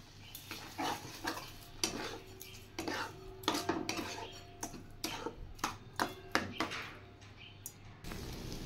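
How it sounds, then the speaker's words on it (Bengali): A spoon adds sugar bit by bit into a pan holding a bottle gourd dish with condensed milk, producing a run of close metallic clinks and scrapes in uneven rhythm over a faint hum. "এবার চিনিটা আমি একটু করে দিচ্ছি।"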